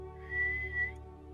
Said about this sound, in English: Does the whistle make it sound like something else? Yeah, it sounds like a dragon's roar.